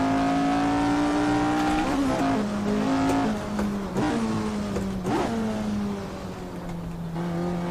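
A Formula One-era race car in Assetto Corsa at Spa screams through repeated upshifts and downshifts, its high engine pitch climbing, dropping and resettling several times, loud and alone.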